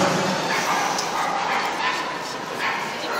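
Dogs at an international dog show, a CACIB event in Nitra, give repeated yips and barks over steady crowd noise and a hall announcer's voice.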